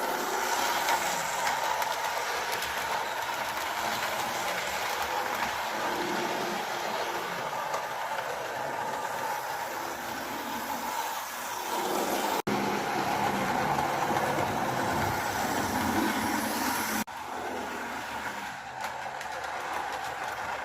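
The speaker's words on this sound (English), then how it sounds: "another Lima locomotive, the warship pulling 2 Triang coaches." An OO scale Lima Warship model locomotive pulls two Triang coaches around a mini layout, giving a steady close mechanical whir and rail rumble that continues throughout with small shifts in tone.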